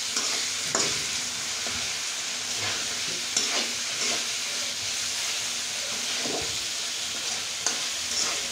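Pieces of pigeon meat fry in a wok and are stirred over and over, giving a continuous hissing sizzle broken by regular scrapes and clinks of the utensil, up close and without talk.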